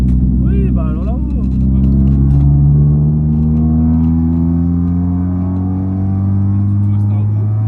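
A Mitsubishi Eclipse coupé's engine drones steadily while driving on open country roads, a loud low hum rising slowly in pitch as it accelerates, with a brief voice near the start.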